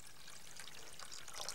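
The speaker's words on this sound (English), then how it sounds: "half fill the saucepan with water. Like this." Water pours into a saucepan holding sugar, a soft, faint, close trickling splash that runs briefly and steadily with no voices.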